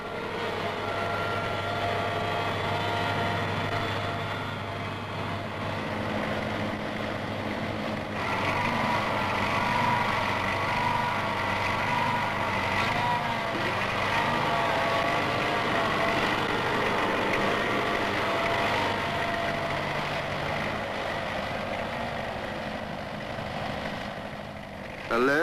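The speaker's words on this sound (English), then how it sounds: "A low, steady tractor speed is an asset on this type of work and is a feature of the tractor shown." A tractor engine runs at a low, steady speed during mechanized row-crop field work, a continuous droning hum with a slight shift in tone partway through, steady and fairly close throughout.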